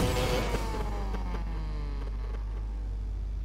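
A Mazda RX7 engine in the racing game Need for Speed Payback hums steadily, its pitch sliding downward as it settles from a rev into a smooth, buzzy idle with harmonic whine.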